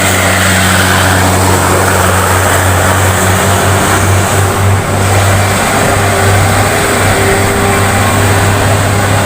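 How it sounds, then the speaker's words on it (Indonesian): Heavy Hino tronton truck roaring past while overtaking on the road, a loud continuous engine drone with low rumble and steady wind and road noise throughout, close and constant. "Tronton nyalip guys."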